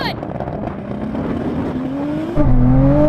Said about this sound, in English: Gosh, that rallycross car is fast.